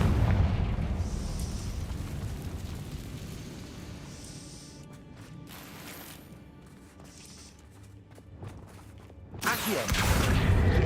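Confringo fire-spell blasts in the video game Hogwarts Legacy: loud booming bursts open and close the passage, with a quieter rumbling stretch between them.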